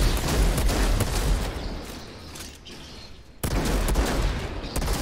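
Rapid automatic gunfire in the video game Outriders, a dense, loud rattle of shots that drops briefly into quieter rumbling before the burst resumes abruptly.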